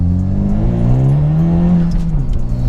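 A Honda Civic Type R FK2 engine revs loud and close through a throaty sports cat and full custom exhaust, pitch rising and holding steady before dropping away, with no voices.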